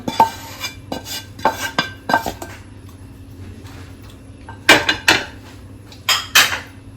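A metal spoon scrapes and clanks against a pan, moving masala spice mix into a breadfruit curry, in loud close bursts of clatter with quieter pauses between them.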